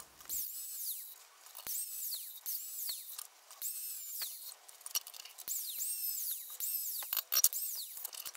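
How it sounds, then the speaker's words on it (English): A tool cuts down the center of a threaded metal rod in bursts of high, whining tones, each dipping in pitch and repeating roughly every half-second, fairly quiet and close, with no speech. "the first thing I'll do is I'll cut down through the center and then remove one side"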